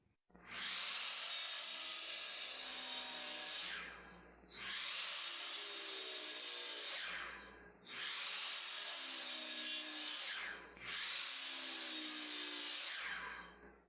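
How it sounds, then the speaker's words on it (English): A power saw trims the ends of white oak nightstand legs to their 22-inch final length in four long, loud cuts of about three seconds each, separated by short pauses, with no talk. "we're going to give them a trim on each end and cut them down to their final length, which is 22 inches"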